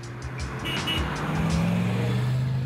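A 1969 Plymouth Roadrunner engine and exhaust rumble close by, and a low tone climbs steadily as the car revs or pulls away over a few seconds.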